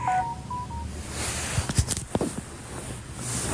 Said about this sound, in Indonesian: Aduh, telepon.